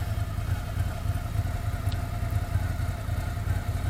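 A 2018 Ducati Monster 797 Plus in red idles steadily with a low, even rumble and light mechanical clatter, close and continuous throughout.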